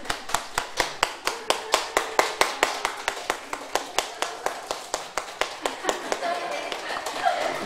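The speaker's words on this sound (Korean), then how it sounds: "우리 축하의 박수 좀 쳐주시고요" A church congregation claps in unison at a baptism service, a near, even beat of sharp hand claps repeating steadily throughout with a faint murmur of voices underneath.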